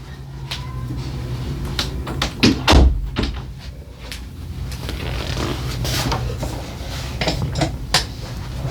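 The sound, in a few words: door being closed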